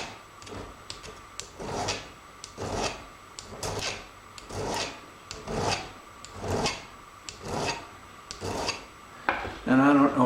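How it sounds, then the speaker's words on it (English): Coarse file trimming the sides of a silver pendant: steady rasping strokes in an even rhythm, about a dozen close, loud passes with brief pauses between them. "come in with the coarse file and basically trim up all of our sides"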